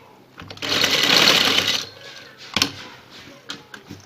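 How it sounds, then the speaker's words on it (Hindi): A sewing machine runs in one steady burst of stitching as lace is sewn onto a V-neck, loud and close for over a second. Short mechanical clicks and knocks of handling follow as the stitching stops. "अब दूसरी साइड वाली सिलाइयाँ हमें लगाएंगे।"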